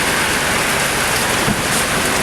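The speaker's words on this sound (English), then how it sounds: "Rain." Heavy rain during an outdoor short-film shoot, a dense continuous hiss of drops pouring down close by and steady throughout, with no speech.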